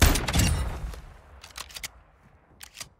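A loud shotgun blast in the video game Call of Duty DMZ booms and trails off, followed by several quieter, sharp shots spaced apart.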